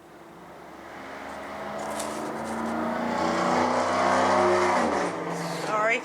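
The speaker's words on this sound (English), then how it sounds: "It's like a drag strip around here." Cars racing past outside on a busy road like a drag strip, a loud swelling engine roar that builds and fades as vehicles pass, with a short squeal near the end.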